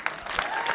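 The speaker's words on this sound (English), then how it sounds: "Give yourselves a big round of applause for coming out tonight." Audience applause from a comedy club crowd, a short burst of clapping with a few louder claps standing out.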